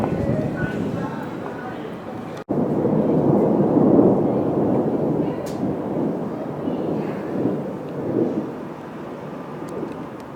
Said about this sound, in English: hear the thunder there?